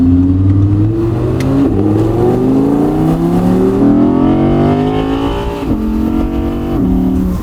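A Porsche sports car engine in Marbella revs loudly and close, its pitch climbing in repeated rising sweeps, dropping briefly, then revving up again.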